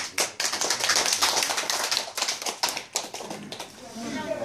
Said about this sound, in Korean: 다시 한번 박수를 보내드리면 좋겠습니다